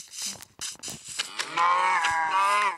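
A Minecraft cow gives a loud, drawn-out moo that fills the second half, after a run of quick clicks and short game noises.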